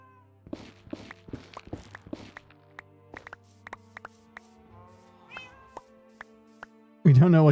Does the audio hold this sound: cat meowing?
yes